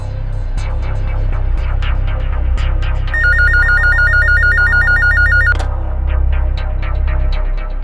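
A telephone rings with a steady warbling electronic trill lasting a few seconds, set over low droning background music with scattered sharp accents.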